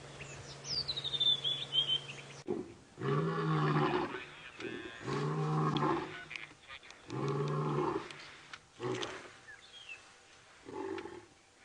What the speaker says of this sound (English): Lions roaring. Such an awesome sound.